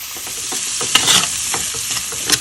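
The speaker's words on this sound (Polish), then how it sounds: "Ale najpierw podsmażę cebulkę." Onion sizzles steadily in a hot pan as a utensil stirs it, the first step of an ossobuco sauce with beef shank. Loud, close frying with scraping stirs throughout.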